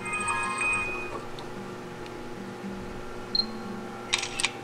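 A camera snapping pictures of the stake terminals on a B&R ACOPOS 1180 servo drive, with a couple of short, sharp shutter clicks near the end over a faint steady background hum.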